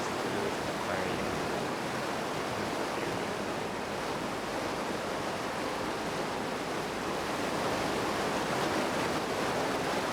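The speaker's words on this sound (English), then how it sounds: "That waterfall is so loud, which is weird for how smooth it is." A loud waterfall in the video game Outer Wilds roars steadily and evenly throughout, a dense unbroken rush of water with no voices over it.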